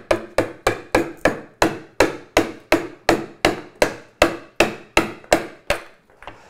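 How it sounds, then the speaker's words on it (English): A mallet strikes a 1-inch woodworking chisel being used to knock out wood, about eighteen sharp, close knocks in a steady rhythm, each with a quick decay, clear and alone. "you can knock this out now very quickly just with a 1-inch chisel"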